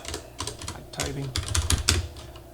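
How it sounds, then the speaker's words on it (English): Rapid clicks of a computer keyboard being typed on, a quick irregular run of close keystrokes lasting a couple of seconds over faint background noise. "Typing."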